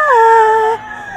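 A personal gamefowl rooster of B-Boy Enriquez crows once, a loud, close, drawn-out call with a falling tail lasting under a second, followed by quiet.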